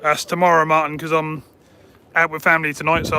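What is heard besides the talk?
No everyday noises stand out.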